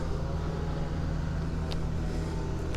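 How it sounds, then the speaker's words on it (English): A heavy garbage truck rumbling in Brooklyn street traffic, its low steady engine drone continuous and close throughout, with no voices over it. "That's a garbage truck."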